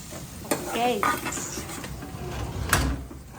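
A burst of sizzling as vegetables hit hot tempering oil with asafoetida, with stirring scrapes and a couple of sharp clatters, fairly close.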